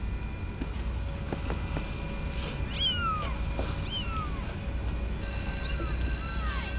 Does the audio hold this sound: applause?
no